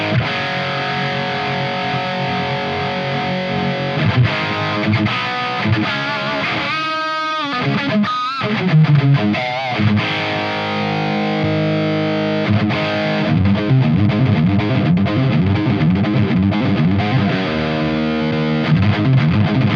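Electric guitar through an ADA MP-1 preamp from the 1980s, without a Rat pedal, playing distorted riffs and bending lead lines with chorus-like shimmer, loud and continuous, no talking.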